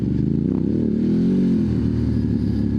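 A Ducati DesertX motorcycle rides off-road at an adventure camp, its engine giving a continuous low, throaty drone that rises and falls slightly, loud and close throughout.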